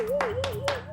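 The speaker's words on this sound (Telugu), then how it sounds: "చప్పట్లు కొట్టండి." Cartoon hands clap three times in quick succession, bright and close, over a wavering tone from a Telugu kids' show.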